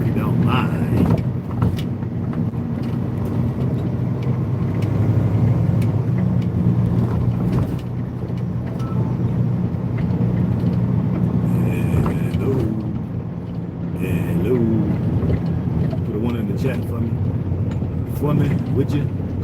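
A car engine hums in a low, steady drone inside the cabin while someone talks over it for most of the stretch.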